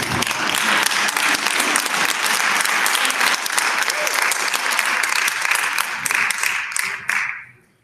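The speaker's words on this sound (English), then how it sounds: "everyone clap for that" Audience at a school district board of education meeting bursting into sustained applause, dense clapping for about seven seconds before fading out abruptly.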